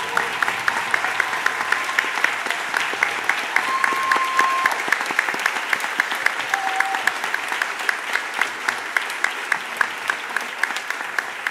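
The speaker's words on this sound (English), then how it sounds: "Give them a round of applause." A conference crowd at an opening plenary applauds students and learners standing among them: sustained, close, full-room clapping that holds a steady level throughout, with a few brief faint tones under it and no speech.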